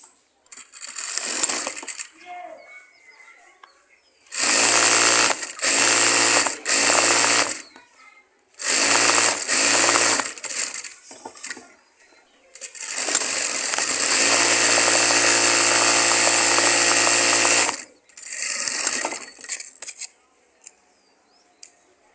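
A sewing machine stitches the side seam of palazzo trousers in several loud, close bursts, three short runs and then a long sustained run of about five seconds, separated by quiet pauses.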